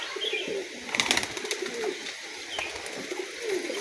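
A giribaz pigeon coos softly a few times at close range, low rolling calls spaced apart over faint background rustle, with no talking.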